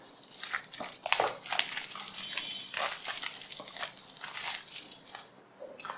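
Crisp, close crinkling and tearing of plastic covering as it is cut and pulled off a Xiaomi Redmi 3s Plus phone box, in irregular bursts with no talking.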